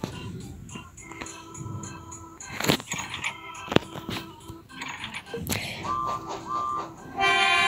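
Rattling, clanking mechanical noises with sharp metallic bursts and a brief tonal whistle-like sound near the end, from a train in the Labo Labo Brick Train video game.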